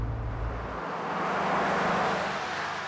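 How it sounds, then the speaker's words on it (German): A simulated V8 engine note plays inside an electric Mercedes G 580 EQ, a deep low rumble at the start that gives way to a rising, swelling broadband drone, loud and close with no talking. "so ein V8-Sound, den kann man sich hier einstellen und das ist ein Unterschied wie Tag und Nacht."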